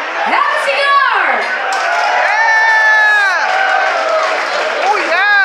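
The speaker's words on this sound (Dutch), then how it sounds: "Geef ze een heel, heel groot applaus." A loud concert crowd cheering and whooping for a band playing songs, with shouted voices rising over it, continuous and lively throughout.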